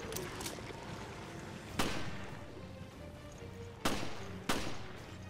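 Gunshots in the video game Resident Evil: Revelations, three sharp, loud reports spaced a couple of seconds apart over a low game ambience, with no talking.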